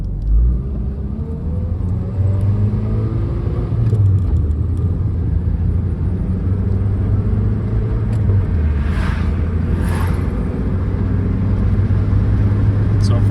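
Toyota Matrix on a test drive after an oil pressure scare: a steady engine rumble and road noise from inside the cabin, with a gear change and faint clicks partway through.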